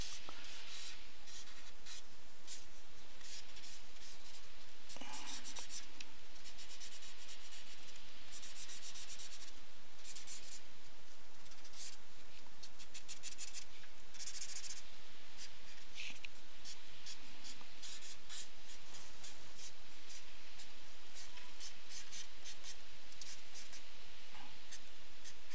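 A pen scratches and scribbles steadily across paper during a timed drawing challenge, with close, continuous rubbing strokes and brief pauses, no talking.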